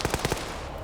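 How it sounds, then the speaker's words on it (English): Rapid burst of AK rifle gunfire in a video game, four sharp shots in quick succession followed by a fading tail, loud and close with no talking. "He's got to hear those gunshots though."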